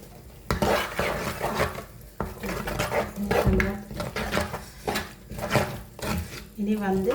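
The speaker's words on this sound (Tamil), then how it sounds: "புளியை விட்டுட்டு கரண்டியால் கலந்து போட்டு அடுப்பை கூட்டுவோம்." A ladle stirs tamarind water into a pot of fish curry, making repeated scraping and clinking strokes against the vessel, fairly close and steady, with a voice talking underneath.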